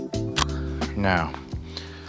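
Film being wound back on a Hasselblad 500CM medium-format camera, several close mechanical clicks and ratcheting turns in quick succession, with a voice talking over them.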